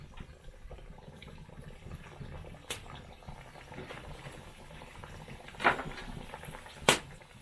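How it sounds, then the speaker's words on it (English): Mandazi dough pieces dropped into hot oil, a steady soft sizzle and bubbling with a few sharper crackling pops, close by. "we put inside the oil"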